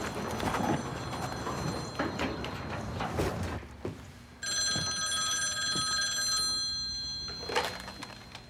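A telephone rings with a steady electronic trill held for several seconds, loud and close, preceded by indistinct room noise and movement.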